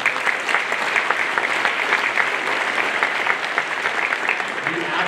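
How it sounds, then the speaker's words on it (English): A school holiday concert audience gives a sustained, dense round of applause for the high school band director, loud and steady from start to finish. "We want to give a round of applause to our high school band director,"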